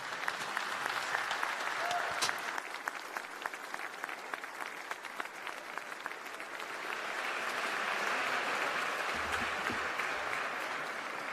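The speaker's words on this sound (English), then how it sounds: "please give him a big round of applause" A hackathon audience at an opening ceremony applauds steadily for about eleven seconds, a dense crowd of clapping that stays even and ends with a faint low thump.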